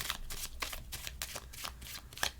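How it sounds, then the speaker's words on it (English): A deck of playing cards being cut and shuffled by hand, with a quick run of crisp, close riffling bursts in an uneven rhythm, fairly quiet and with no talking. "lose it into the deck with a few cuts and maybe a shuffle"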